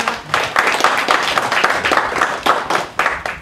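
Audience at a book launch event claps steadily in a dense round of applause, close and fairly loud, with a faint murmur of voices underneath.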